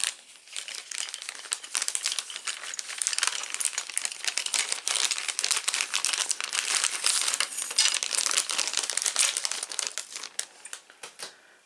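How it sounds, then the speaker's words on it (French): Plastic bag of model kit parts being opened, a steady crinkling and crumpling of thin plastic close by for about ten seconds, fading out at the end. "Je vais ouvrir le sachet de pièces."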